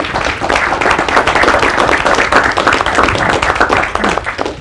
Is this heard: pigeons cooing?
no